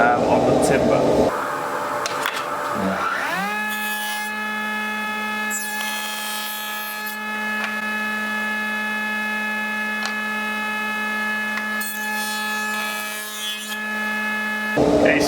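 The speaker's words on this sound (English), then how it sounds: "do that first sort of shallow cut at the full height, so 64mm or wherever your mortise position is on the timber" A spindle moulder spins up to a steady, loud tonal whine and hums while cutting a shallow rebate in oak timber, with bursts of cutting noise over the drone before it stops.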